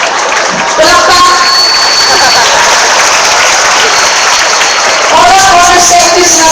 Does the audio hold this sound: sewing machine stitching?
no